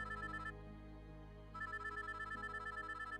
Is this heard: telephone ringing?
yes